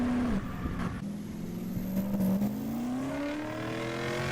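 A modified pickup truck engine revs with a loud, droning roar, its pitch dipping and then climbing steadily through a sustained, gritty rumble.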